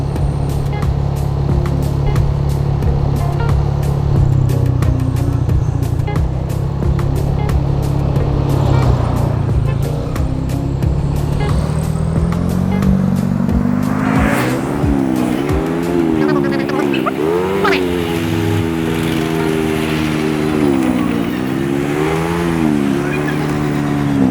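Road traffic on a street in San Juan where the road is under construction, with a steady close engine rumble and the varying drone of passing vehicles throughout. Someone talks over it in places.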